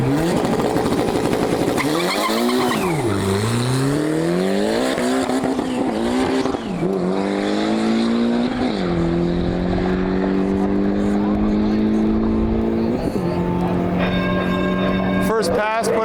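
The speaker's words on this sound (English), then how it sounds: "Here we go, first pass on the Junkyard Integra." Junkyard Integra race car launching down a drag strip, its engine revving up through rising gear pulls with brief shift dips, loud and continuous for the whole pass.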